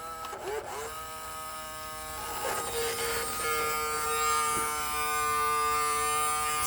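The faulty steering servo of a 1/12 scale Dickie Spielzug Mini Cooper RC car gives a thin electric buzzing whine with steady tonal hum, a few brief chirps, then a sustained drone.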